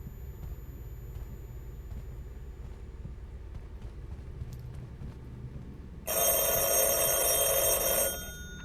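A telephone rings in the horror video game Backrooms The Lost Tape, one loud, bright electronic burst for about two seconds that cuts in over a low, rumbling ambient drone and then stops.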